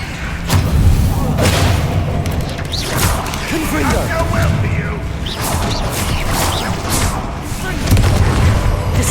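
Repeated explosive Confringo spell blasts in the Hogwarts Legacy video game, booming impacts and crashes rolling continuously through a busy combat mix with spell shouts in between.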